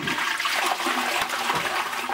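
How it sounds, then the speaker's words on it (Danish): Toilet flushing steadily and close by for the whole stretch, a continuous rushing of water in a household toilet draining to a roadside ditch rather than a municipal sewer. "Når jeg i Henriksen skyller ud"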